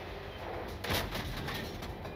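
A single heavy tank cannon boom from the video game World of Tanks bursts out over a dense, noisy rumble of battle ambience, followed by a rolling echo that fades into the steady background.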